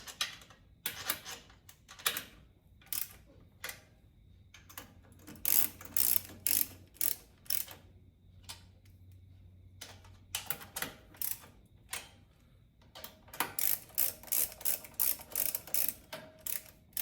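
A 3/8-inch ratchet snugging carburetor studs, giving rapid bursts of close, sharp pawl clicks separated by brief pauses, with no voices.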